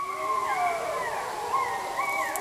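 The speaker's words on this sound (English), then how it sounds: "Wolf howls were silent in Washington" Wolves howling in the wild in Washington state, several long wavering howls overlapping and rising and falling in pitch, moderately loud and steady across the whole stretch with no talk.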